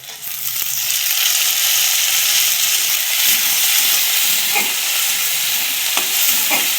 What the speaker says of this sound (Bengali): টমেটোটাকেও ভালো করে কষিয়ে নেব।